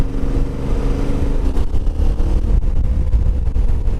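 A Yamaha Tenere 700 adventure motorcycle being ridden, its engine droning steadily and loud with road and wind rumble throughout, no talking.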